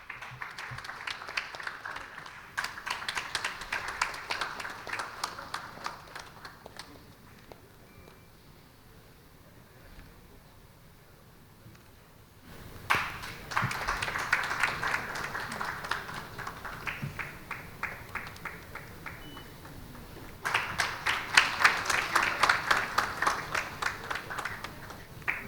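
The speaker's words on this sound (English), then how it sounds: "Please keep clapping, please keep clapping." Audience applause at a TiECon Surat 2023 business panel event, rising and falling in three fairly faint waves of scattered clapping from a seated crowd, with a quieter lull in between.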